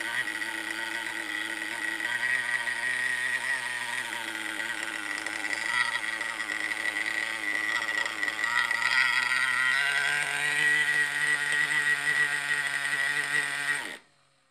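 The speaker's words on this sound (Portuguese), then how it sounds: "Esse é o motor." A Honda SH scooter engine running on its own near the microphone, a steady droning hum with a slight rise in pitch partway through, then cutting off abruptly at the end.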